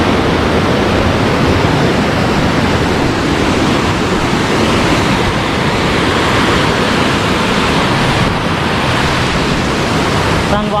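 A loud, continuous roar of rushing water from Ghaghi waterfall in Ambikapur, Chhattisgarh, heard up close, steady and broadband with no pauses.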